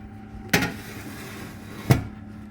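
A tray of flounder goes into a home oven: two distinct thuds about a second and a half apart, the bump of the pan and the shutting door, close by over a quiet kitchen hum.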